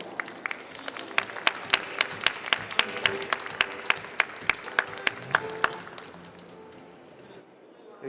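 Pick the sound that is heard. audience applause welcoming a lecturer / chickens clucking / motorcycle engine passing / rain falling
audience applause welcoming a lecturer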